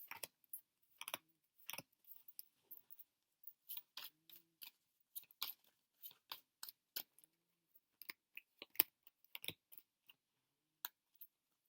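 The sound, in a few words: shuffling a deck of tarot cards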